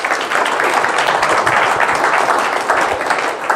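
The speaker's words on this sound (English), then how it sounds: "give these 3 amazing people another round of applause real quick" A meeting audience at a UWAY product demo and opportunity event gives steady, dense applause that fills the room for several seconds, with only faint voices mixed in.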